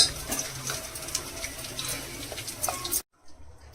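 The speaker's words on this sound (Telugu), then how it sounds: "ఇప్పుడు పోపు వేసాం పులిహోరకి" Tempering spices fry in hot oil in a pan for festive Ugadi mango pulihora, a steady faint sizzle and crackle with occasional clinks of a stirring spoon against the pan, cutting out abruptly near the end.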